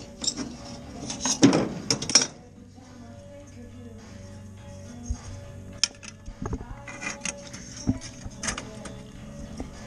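Small metal screws clink and rattle while a light fitting is fixed in place, a cluster of louder clatter early on followed by scattered light taps and knocks, close by with no talking.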